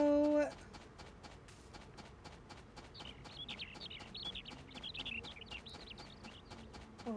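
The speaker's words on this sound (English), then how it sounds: "oh, listen to those birds chirp" Birds in the farming game Story of Seasons chirp softly and repeatedly in a quiet, faint background, with a few thin tweets over a low hum.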